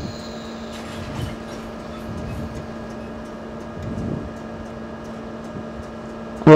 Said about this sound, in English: Welcome aboard this freight train to